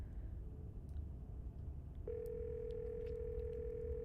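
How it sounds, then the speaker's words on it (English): A steady telephone dial tone in the video game Scarlet Hollow starts abruptly halfway through and holds on, loud and continuous, after a stretch of low rumbling room noise. "You can hear something drop violently on the other end, and then a dial tone."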